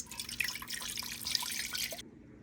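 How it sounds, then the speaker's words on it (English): Water trickles and drips steadily into the inner pot of a Joydeem low-carb, low-sugar rice cooker, a close, soft liquid patter that stops abruptly near the end. "add some water to the minimum level"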